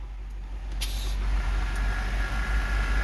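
A 2011 Range Rover L322 lowering on its air suspension gives a loud, steady rush of venting air that holds for the whole stretch, with a low hum beneath and a couple of short sharp hisses near the start.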